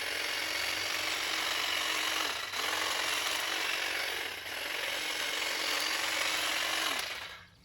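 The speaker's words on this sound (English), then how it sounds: "So let's see how this thing operates. Seems like a pretty standard hedge trimmer to me." A Ryobi One+ 22-inch cordless hedge trimmer runs with a steady, loud buzzing drone of reciprocating blades, briefly dipping twice before cutting off near the end.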